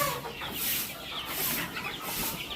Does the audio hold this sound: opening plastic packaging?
no